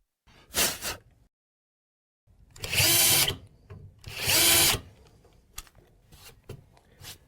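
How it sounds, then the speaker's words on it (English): A power drill with a center drill bit whirs in several short bursts, two longer runs in the middle, followed by light handling and tapping sounds. "Carefully position the center drill bit and drill the holes."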